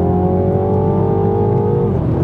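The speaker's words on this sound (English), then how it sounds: "It stayed in fourth, so I could put my foot down flat and watch the boost build" A Mini Cooper JCW F56 held in fourth gear with the throttle flat, its engine droning loud and steady as boost builds, pitch climbing gradually before easing off near the end.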